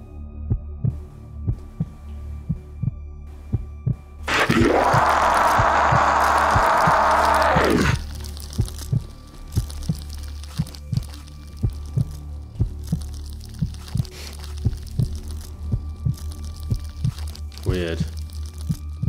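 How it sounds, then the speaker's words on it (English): A steady, throbbing heartbeat from the horror game Sinistria pulses low and continuous throughout, with a loud burst of another sound midway and scattered clicks over it. "Love the heartbeat."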